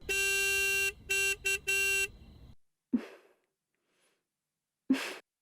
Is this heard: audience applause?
no